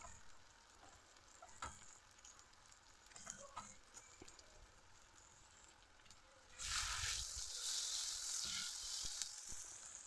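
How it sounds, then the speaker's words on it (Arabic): Onions frying in a pan, a faint crackle with scattered clicks at first, then a loud, dense sizzle swelling up partway through and holding steady to the end. "نبدا بقى نحمر في البصل بتاعنا"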